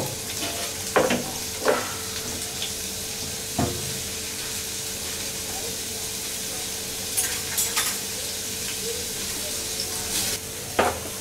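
Onions frying in oil in a pan for chickpea bhaji, a steady close sizzle with a few sharp clinks and scrapes of a utensil scattered through it, no talking.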